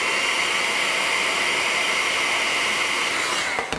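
A heat gun blows hot air onto the mold of a giant Dr Pepper gummy cola bottle, a loud, steady whooshing hiss held close up for several seconds before cutting off at the end.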